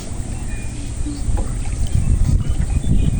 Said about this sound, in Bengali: হ্যাঁ নৌকা কন্ট্রোল করুক।